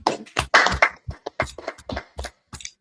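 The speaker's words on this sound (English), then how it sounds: "So like, clap it up. That's the clap." Hands clap in a loose, uneven run of about a dozen sharp, close claps with short gaps, loud and dry with no voices over them.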